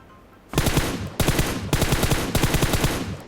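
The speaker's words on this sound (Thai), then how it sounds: "เดี๋ยวผมจะลองยิงให้ดูนะครับ" Automatic gunfire in the mobile game PUBG Mobile: four rapid bursts of close, loud shots in quick succession after a brief quiet start.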